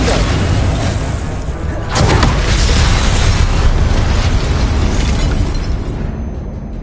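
A Confringo blasting spell explodes in the video game Hogwarts Legacy, a loud, dense boom that swells after a couple of seconds and rumbles on for the whole stretch, fading slightly at the close.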